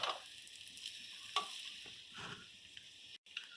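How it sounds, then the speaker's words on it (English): Oriental noodles fry in oil while being stirred, a soft, fairly quiet sizzle with swishing bursts from the stirring and a brief dropout near the end. "we are stirring the noodles in the oil"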